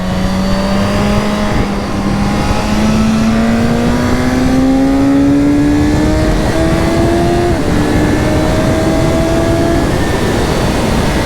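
A 2023 Suzuki GSX-S 1000 motorcycle with a 2005 GSX-R-derived 150-horsepower engine accelerates hard through the gears, its rising engine whine climbing steadily, dropping at a shift and climbing again, loud and close throughout.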